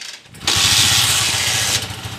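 A Suzuki Shooter 115fi motorcycle engine, freshly rebored after knocking, catches and roars to life, then runs at a steady, loud, close idle with a rumbling low throb.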